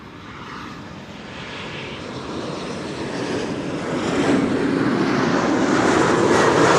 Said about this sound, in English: The bigger sibling of the Embraer 175, the Embraer 190, also quite a rarity here at Schiphol Airport.